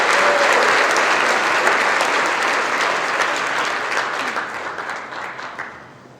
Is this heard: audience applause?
yes